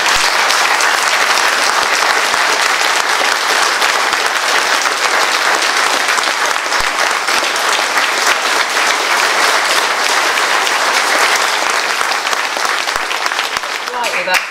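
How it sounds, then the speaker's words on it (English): A crowd at a political Q and A with an MP on leaving the EU breaks into loud, continuous applause, thick and unbroken clapping that lasts about fourteen seconds. "That's the biggest round of applause of the night"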